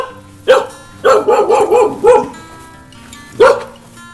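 A dog barks at a house: one bark, then a rapid run of four or five barks, another single bark, and a final bark after a pause, loud and close.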